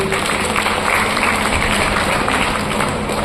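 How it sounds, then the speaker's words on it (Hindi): Dense, steady crowd applause for the chief guest at a company training programme event, sustained and even throughout at close range. "मैं चाहूंगा उनके लिए एक जबरदस्त ताली होना चाहिए"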